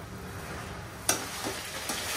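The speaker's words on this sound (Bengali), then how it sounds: "মাটন কষানো শেষ" Mutton fries in oil in a pan with a quiet, steady sizzle, broken by a sharp utensil clank and a couple of soft stirring scrapes, close and alone without talk.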